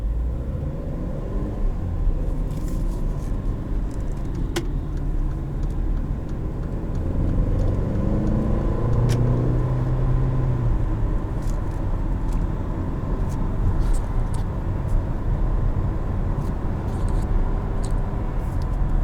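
Inside a 2017 Infiniti QX30 SUV driven in sport mode, a steady engine drone and road rumble fill the cabin throughout, with occasional light clicks and no voices.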